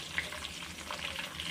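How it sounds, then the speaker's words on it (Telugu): Curry leaves and tempering spices fry in hot oil for tomato pickle, a soft continuous crackling sizzle with faint stirring, close and fairly quiet. "ఇప్పుడు ఇవంతా ఒకసారి ఆయిల్లో కలిపేసుకొని మంచిగా ఆయిల్లో ఫ్రై అయ్యి మంచి స్మెల్ వచ్చేలాగా మనం ఫ్రై చేసుకుంటే బాగుంటుంది."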